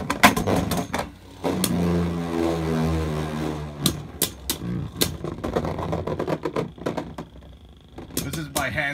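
Beyblade Burst Pro Series spinning tops, including Fafnir, hand spun and battling in a stadium, giving a long whirring hum with repeated sharp clacks of collisions, some loud and close, ending in a tie.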